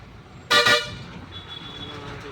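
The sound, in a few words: festival road traffic with car horns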